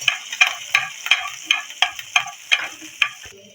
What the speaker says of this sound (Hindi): इसमें हम लहसुन अदरक का फ्रेश पेस्ट जो है वो शामिल करेंगे। इसको हम हल्का सा फ्राई कर लेते हैं।